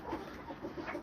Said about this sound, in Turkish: Burada da bir tane horozumuz var.